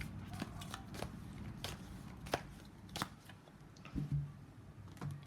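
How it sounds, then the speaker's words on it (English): Tarot cards are shuffled by hand at close range, with soft papery riffles and a few sharper slaps and taps scattered across a few seconds, with no talk over them. "Now, one more shuffle."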